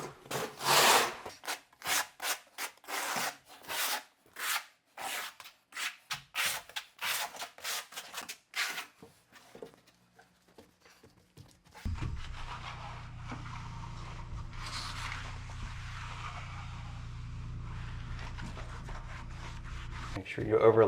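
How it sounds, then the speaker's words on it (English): The flat side of a trowel works thinset into the substrate and a Blanke Permat tile mat in steady, rhythmic scraping strokes. The strokes give way to a quieter, steadier rubbing hum. "So I'm gonna work it with the flat side of the trowel first"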